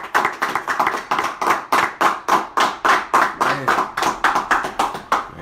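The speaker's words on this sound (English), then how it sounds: "Alright, clap it up." A crowd at a tribute gathering claps in a steady, rhythmic unison beat, about three to four loud claps per second, continuing evenly for several seconds.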